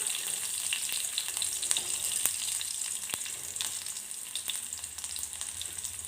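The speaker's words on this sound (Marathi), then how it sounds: "त्याच्यानंतर मी आता त्याच्यामध्ये लसणाच्या पाकळ्या टाकते" Garlic cloves and cumin seeds sizzle steadily in hot oil in a frying pan, a continuous bright crackle with scattered sharper pops and no voices.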